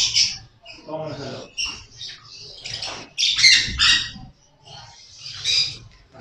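Two pet birds in a home aviary let out repeated harsh squawks and chirps in irregular bursts, loud and close, with short quiet gaps between the calls.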